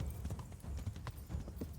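Steady clip-clop of horse hooves trotting at a quick, even rhythm in the video game Kingdom Come: Deliverance, close and moderately loud, with no voices over it.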